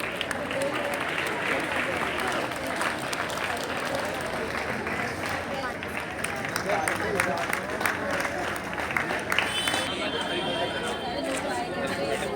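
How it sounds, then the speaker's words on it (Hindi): An audience claps steadily at a prize distribution ceremony for a cricket tournament, a dense, close burst of applause mixed with crowd chatter and voices talking throughout. "तालियां जोर से बजनी चाहिए।"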